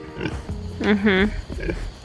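A pig grunts and oinks close by, with a drawn-out nasal squeal in the middle, over low background noise.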